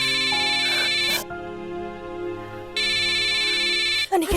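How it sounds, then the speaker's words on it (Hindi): A mobile phone ringing with an incoming call in a Hindi drama scene, a loud electronic ringtone sounding in two long bursts with a short gap between them, close and alone. "अनिकेत का फोन आ रहा है, मैं उसे सब कुछ बताऊंगी।"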